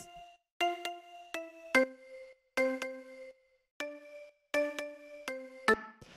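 Two synth leads, a mallet tone and a small organ sound, play a bright ringing melody in chill house style: repeated short chord-like stabs in a bouncy rhythm, clean and alone.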